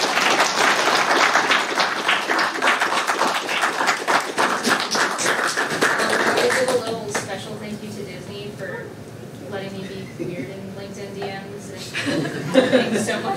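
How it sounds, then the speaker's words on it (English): An audience claps loudly for several seconds, then the applause fades into chuckles and people talking. "We'll give you guys a round of applause."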